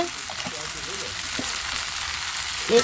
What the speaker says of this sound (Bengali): আলুটার সঙ্গে ইঁচুড়ের সঙ্গে একটু কষিয়ে নেবে হলুদ দিয়ে নিচ্ছে